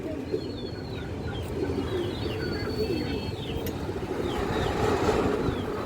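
Pigeons in a loft coo softly against a constant background rumble, with faint chirps from other birds scattered throughout.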